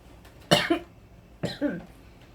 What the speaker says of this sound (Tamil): இருமல் வந்துட்டே இருக்கு